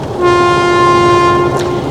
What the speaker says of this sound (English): My air horn works.